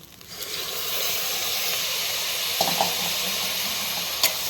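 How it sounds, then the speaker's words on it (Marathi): Chicken sizzles in masala in a pan for biryani, a loud, even hiss of frying close by, broken by a couple of brief clinks of utensils. "आता ह्याच्यात आपण चिकन टाकून घेऊ."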